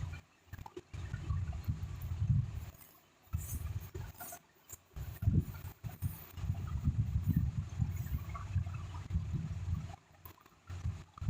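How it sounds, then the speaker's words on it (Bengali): Parshi fish and brinjal are stirred in a wok of simmering curry, giving soft wet sloshing and gurgling scrapes close by in several short bursts with brief pauses between them. "তো দেওয়ার পরে এবার আমি এটাকে ভালো করে একটু নেড়ে চেড়ে নেবো, যাতে মাছগুলো ঝোলের মধ্যে ভালো করে"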